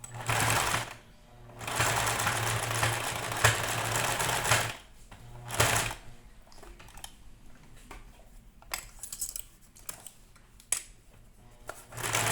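A sewing machine runs in bursts while stitching a small cloth bird, with a steady mechanical whir, short pauses, and a few light clicks and handling taps in a quiet room.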